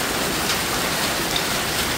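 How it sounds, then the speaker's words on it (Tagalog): Heavy rain pours onto a metal sheet roof in a steady, dense roar with scattered drop impacts, loud and continuous, no voices. "gumuhos ang ulan kasabay niyan"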